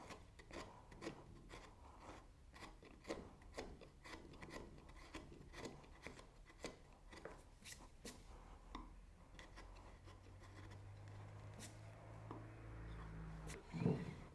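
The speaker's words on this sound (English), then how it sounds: "I'm just going to remove the top heads of these dowels" Dowel heads being trimmed flush on a wooden workbench: a run of sharp, rasping strokes and clicks at an uneven pace, close but fairly quiet, ending in a slightly louder scrape.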